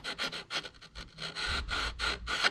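Edge of a wooden archtop guitar pickguard being chamfered by hand, a close series of soft rasping, rubbing strokes in an uneven rhythm, with no talk.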